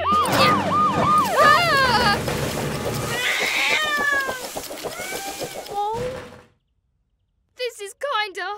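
A kitten stuck up a tree in a children's cartoon gives a run of wavering, rising-and-falling meows over siren-like tones and music, then a short silence before a brief final burst of cries.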